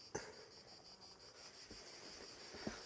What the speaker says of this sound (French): Ah ouais, il y a les cigales en prime.